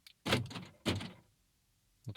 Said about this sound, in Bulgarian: Отключва и заключва всички врати.